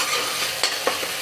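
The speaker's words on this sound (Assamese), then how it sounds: "ভাজিখিনি হৈ গৈছে পেষ্টটো" A spice paste sizzles as it fries in a pan for a Labeo bata fish curry, with a steady hiss and two or three quick scraping stirs, close and alone without talk.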